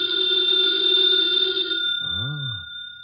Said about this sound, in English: Should never ignore a phone call.